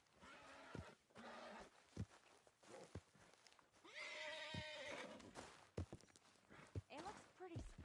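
A horse in the Red Dead Redemption 2 video game whinnies and snorts several times, close and fairly loud, mixed with hoof clops and game sounds, while someone talks over it.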